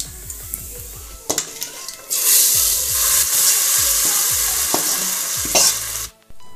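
About ten cloves of garlic fry in a pan for a moorg dal dish: a loud, steady sizzle swells after a few soft clunks, with spatula scrapes and pan knocks cutting through before it drops off at the end.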